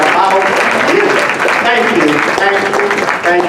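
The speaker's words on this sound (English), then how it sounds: "Give yourselves an applause." Applause from an audience at a retirement ceremony, loud continuous clapping mixed with voices and cheering throughout.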